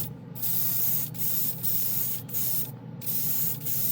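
A spray gun hisses out solvent paint in repeated bursts, loud and close, with short gaps between passes.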